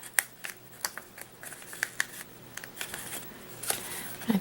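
Backing strips being peeled off double-sided glue strips while making a 4th of July napkin holder, a close, quiet stream of crinkly rustles and small ticks lasting a few seconds with no voices.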